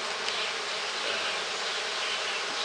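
A swarm of honey bees, some fanning with tails raised, gives a dense, steady buzz throughout, close and continuous with no other sounds.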